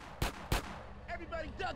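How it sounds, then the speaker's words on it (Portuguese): Two sharp gunshots in GTA San Andreas ring out close together near the start, followed by someone talking over steady game background noise. "Vai, dá tiro nele aqui, mano."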